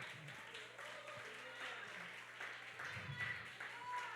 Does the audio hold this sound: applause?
yes